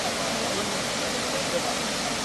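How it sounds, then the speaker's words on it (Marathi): Monsoon waterfalls rushing down the hills of Rajapur in Ratnagiri, Konkan, a dense, steady broadband roar of falling water with no breaks. "तर राजापूरच्या डोंगरावरील धबधबे असे प्रवाहित झाले"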